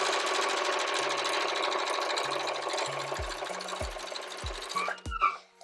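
A domestic sewing machine stitching a Christmas blanket, a steady fast mechanical whirring hum that runs for several seconds, ending with a few short clunks and clicks as it stops.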